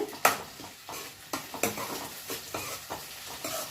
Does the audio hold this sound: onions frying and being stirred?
yes